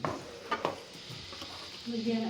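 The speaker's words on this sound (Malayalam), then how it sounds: "നന്നായിട്ട് ഇളക്കി കൂട്ടി നമ്മുടെ അവിയൽ റെഡിയായി വരുന്നുണ്ട്" A spoon stirs avial, a Kerala vegetable curry, in a pot, with soft scraping knocks and a faint sizzle, fairly quiet and close.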